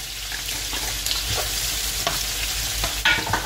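Julienned onion and garlic sauté in a pan over medium heat, giving a steady close sizzle with repeated scraping and stirring strokes throughout and a sharper clatter near the end.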